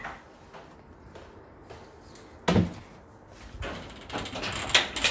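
A house door opened at dusk, with a sharp latch clack midway followed by rustling and soft knocks as it swings, fairly close and moderately loud over a quiet background.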